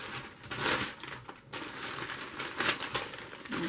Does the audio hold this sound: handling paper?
yes